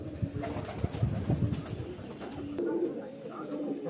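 A highflyer baby pigeon from a cross-bred pair coos in soft, low repeated murmurs close by, with some faint background noise and a brief voice-like sound.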